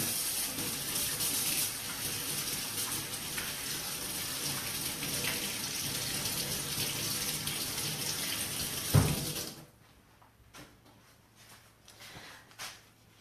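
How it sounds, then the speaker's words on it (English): Water gushing steadily from a tap during handwashing, a close, hissing flow that stops abruptly near the end, followed by a few faint drips and small handling sounds. "Before I do this, I'm going to wash my hands."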